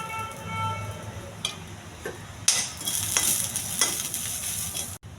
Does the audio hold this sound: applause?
no